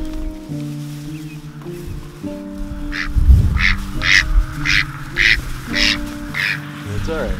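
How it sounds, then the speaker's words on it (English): Ducks out of their enclosure and walking around near a pond give a run of six or so short, evenly spaced quacks over steady background music, moderately close and clear. "I couldn't find the other ducks, so now they're out here walking around."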